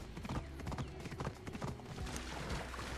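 Horse hooves clip-clopping in Assassin's Creed Odyssey, a steady run of close, rhythmic hoof beats over a busy game soundscape, with no one talking.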